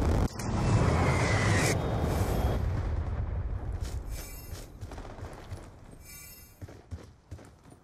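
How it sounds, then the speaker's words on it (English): A Hellstorm missile strike in Black Ops 2 lands as a loud close blast that opens with a sharp hit, then rolls into a long rumbling roar that slowly fades, with scattered smaller pops and crackles near the end. "Friendly Hellstorm missile inbound."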